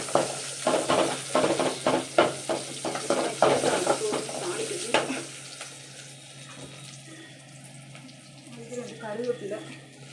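Tempering spices, with curry leaves mentioned nearby, crackle and sizzle in hot oil, a run of sharp pops and stirring at first that settles into a softer sizzle, with a voice faintly present.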